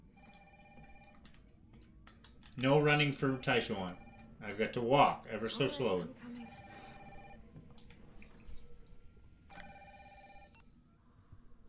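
A telephone rings in the Resident Evil 3 remake game, repeated bursts of a bright electronic ring separated by pauses, with a player talking loudly over the middle section and the ringing returning alone near the end.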